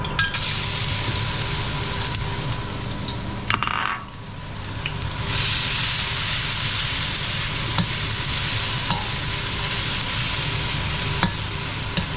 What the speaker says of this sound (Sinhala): අපි දානවා කොටාගත්ත වංගෙඩියේ ඉඟුරු සුදු ලුණු අනිත් අමුද්‍රව්‍ය ටික